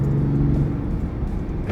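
Genesis GV80 2020 with a six-cylinder diesel accelerating, heard from inside the cabin as a steady low engine hum and rumble over road noise throughout the short stretch, no talking.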